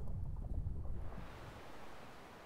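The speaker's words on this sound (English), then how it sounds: "you can usually hear and see the little splashes of the boat as it heads through the waves" A sailing boat in the video game Sailwind cuts through ocean waves, giving a soft, continuous wash of splashing water mixed with wind. It stays fairly faint, with no voices.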